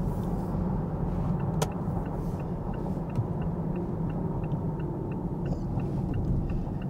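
Steady low rumble of a car cabin while driving on the road, constant road and engine noise with faint regular ticking, close and continuous with no talk.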